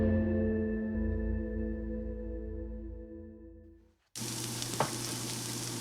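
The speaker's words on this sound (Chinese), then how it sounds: "等我把这个牛排煎完，我们就可以吃饭了。" A steak frying in a pan: a few seconds of low humming tone, then a sudden loud, steady hissing sizzle that carries on to the end.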